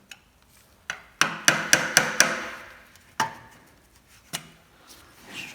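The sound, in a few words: prying generator part open with a screwdriver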